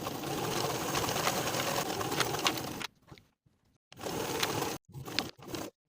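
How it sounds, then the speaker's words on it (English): Sewing machine stitching the side and bottom edges of a sweater facing, a close, fast buzzing run that stops, followed by two more short bursts of stitching separated by pauses. "We're going to sew the side and bottom edges of this facing with a 5/8 inch seam allowance"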